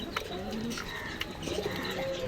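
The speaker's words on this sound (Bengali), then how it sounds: "দেখুন একটা ঝুড়ির মধ্যে তিনটা কবুতর কিভাবে আসছে" Three pigeons sitting in a basket coo softly at close range, with several low, repeated coos and a few light rustles or flutters.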